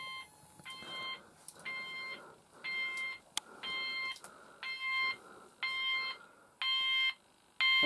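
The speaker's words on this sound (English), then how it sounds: "You can hear the find device tone." A Gent addressable fire alarm sounder gives its find-device tone, repeating electronic beep bursts about twice a second, fairly faint and steady, with no talking over it.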